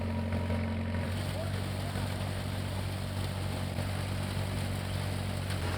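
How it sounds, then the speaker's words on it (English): At a heritage farm demonstration, a tractor or steam engine drives a large threshing machine through a very long belt, making a loud, continuous mechanical drone with a low hum that stays steady throughout. "It's a large, complex machine hooked up with a very long belt to a tractor or"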